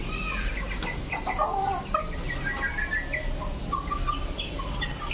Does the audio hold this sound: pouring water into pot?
no